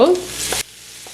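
A mix of drumstick leaves and shrimp stir-fries in a pan: a short burst of loud sizzling and scraping lasts about half a second, then drops away abruptly to a quiet background.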